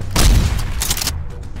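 A loud, close shotgun blast in the SCP Containment Breach game bursts out and booms across about a second before cutting off into quieter background noise.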